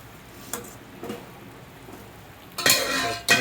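Sambar is stirred lightly in a pot. A few soft scrapes are spaced out over a quiet bubbling background, and two louder clattering strokes come near the end.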